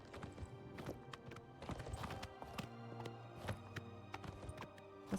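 Horse hooves clip-clop in the video game Oblivion Remastered, a steady walking rhythm of close, crisp hoof taps with a brief whinny-like tone and low game ambience behind.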